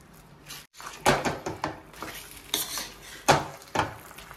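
Fried chicken lollipops are tossed and mixed in a pan, with a run of uneven metallic scrapes and clanks over a light sizzle and no speech.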